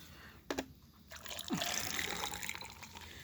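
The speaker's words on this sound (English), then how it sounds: "let me pour myself some drink" Juice poured into a glass, a short faint trickle of liquid after a brief clink, heard close and quiet in a calm indoor room.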